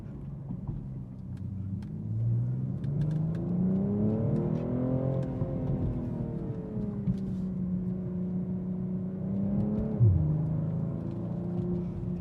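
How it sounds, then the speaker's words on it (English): A BMW M240i xDrive coupe's 3-liter twin-turbo straight six pulls and revs from inside the car, its engine note rising and falling smoothly with a throttle blip near the end. "You can hear that blip throttle when we slow down."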